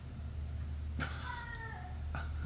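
A cat gives a single drawn-out meow, fairly faint against a quiet room hum, followed by a brief second sound about a second later.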